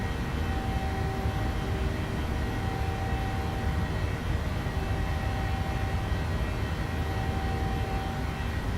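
A Boeing 737-800 roars steadily at climb power in Microsoft Flight Simulator, a continuous even engine drone with a faint tonal whine and no talk.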